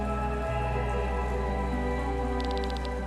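Steady rain falls over a city in the video game Chained Echoes, a constant hiss that runs throughout beneath layered tonal game music, with no speech.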